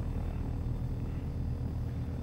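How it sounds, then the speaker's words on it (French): A helicopter in a training setting gives a steady, dense low rumble and engine drone that holds constant throughout, close and continuous with no talk. "Prepare to take control of the chopper."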